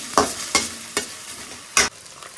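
Coriander, cumin, cloves, cinnamon and drumstick leaves fry in hot oil for a tempering. A steady sizzle runs underneath four loud, scraping stir strokes, with a longer gap before the last one.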